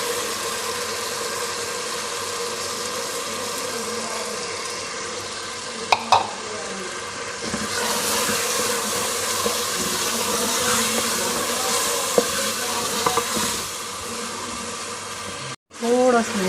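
Soaked chana dal roasts with fried masala in a pan, a dense, loud, continuous sizzle with occasional scrapes and stirring knocks, and a brief break near the end.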